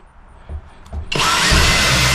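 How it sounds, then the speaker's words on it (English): A Kobalt power drill spins up after a few soft taps and bores a hole with a loud, steady, close-up whine that holds to the end. "we're going to drill a hole right here, right where my finger is, right here."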